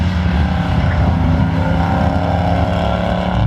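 A car rumbles loudly and close as it pulls out, a low, steady engine drone with no talk over it.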